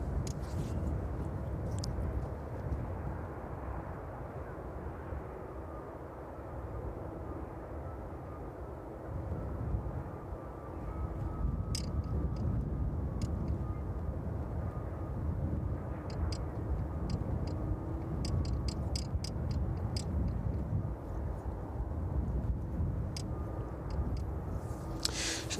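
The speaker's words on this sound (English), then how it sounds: "we can track all these inbound aircraft to East Midlands this evening" Inbound aircraft approaching East Midlands Airport in the evening, a low, distant jet rumble that slowly swells, with faint ticking and clicking noises nearby.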